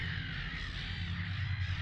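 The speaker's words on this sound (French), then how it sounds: "on entendit un bruissement d'ailes et de petits cris sauvages" A flock of seagulls crying overhead, a dense, continuous chorus of harsh cawing calls with a steady low rumble beneath, fairly loud and without talk.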